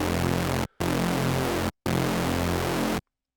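A supersaw synth patch, its saw layers driven through a separate distortion bus, plays as three loud, dense, buzzing sustained chords separated by two brief silent gaps, then cuts off into silence.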